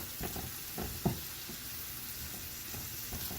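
Scallion whites and light green parts frying in a pot, a steady close sizzle with a few soft stirring knocks, no talking.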